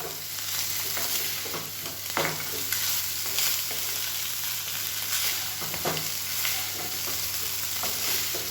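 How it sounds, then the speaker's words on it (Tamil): Cooled cooked rice is stirred gently in a pan for egg fried rice, a steady run of soft scraping and shuffling strokes with a faint sizzle underneath, close and alone without talk. "இது வந்து அப்படியே மெதுவாக கிளறி வச்சுக்கலாம்"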